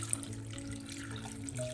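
Water is poured into a cooking pot over chopped pumpkin with rock salt and turmeric for pachadi, a steady soft trickling stream for a couple of seconds, faint and alone.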